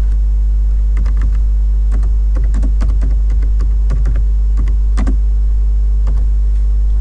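Fingers type on a computer keyboard in short clustered bursts of light clicking keystrokes, set against a steady low electrical hum.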